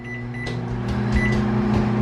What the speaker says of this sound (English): a can of corn that I'm just going to throw in the microwave for a couple minutes